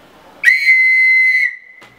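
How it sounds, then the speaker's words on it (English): A small homemade whistle made from bottle caps gives one loud, clear, steady shrill tone lasting about a second, close by, followed by a brief fainter toot. "today I'm going to show you how to make whistles out of cooling bottle caps like this."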